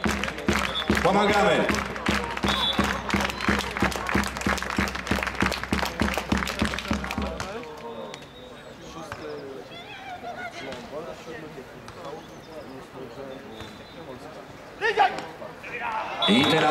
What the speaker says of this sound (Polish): Wszyscy klaszczą, bardzo proszę, nasze dłonie.